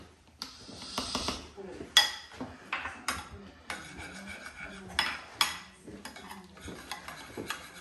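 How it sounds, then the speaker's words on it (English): Spoon stirring chicken kebab marinade with pepper and salt in a bowl, giving a string of sharp clinks and scrapes in an irregular rhythm, close and moderately loud. "and then you can mix all that up together"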